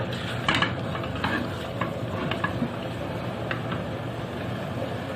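Cubed meat for a pot kebab is sautéed in a pan, giving a dense, steady sizzle with scattered scraping stirs, heard up close and without voices.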